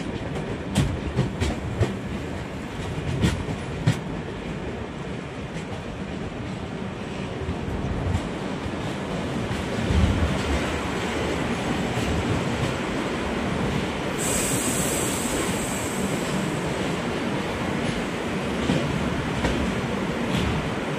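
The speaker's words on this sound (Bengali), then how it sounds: "ফালাকাটাতে ট্রেন প্রবেশ করছে।" The Brahmaputra Mail rolls into Falakata station in West Bengal, heard from on board as a continuous loud rumble with rhythmic wheel clacks and a brief high squeal midway.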